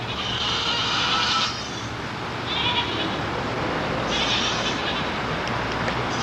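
Goats in an old wagon yard in town bleat a few times at moderate distance, the calls rising over a steady outdoor background with no talk.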